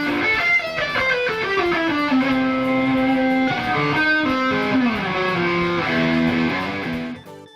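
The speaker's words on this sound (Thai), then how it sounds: "เสียงของกีตาร์ไฟฟ้า" An electric guitar plays a sustained, gritty melody with smooth slides between notes, loud and steady throughout, with no voices.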